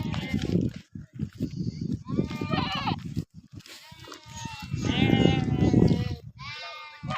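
Goats at a farm bleat repeatedly in wavering cries, several close by and overlapping, with a voice talking between and over them.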